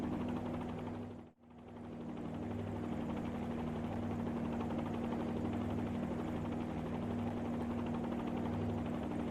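Helicopter hovering in a flight simulator game, a steady droning rotor and engine hum with a constant tonal whine, loud and unbroken apart from one very brief dropout near the start.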